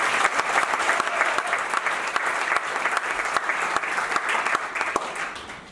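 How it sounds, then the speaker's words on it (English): Listeners at a conversation event on Israel applaud warmly, a busy, evenly sustained round of clapping close to the microphone that gradually tapers off at the end. "Give her a big round of applause."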